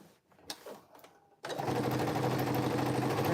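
A sewing machine stitches the seams of homemade DIY cargo pants. After a quiet moment with faint handling noises, the motor kicks in and runs loud, close and steady to the end.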